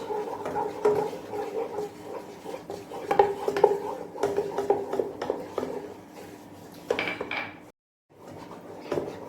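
A utensil stirs flour into melted butter in a pan for white sauce pasta, with steady scraping and clinking of metal on the pan in irregular strokes, close and moderately loud, broken by a brief pause near the end.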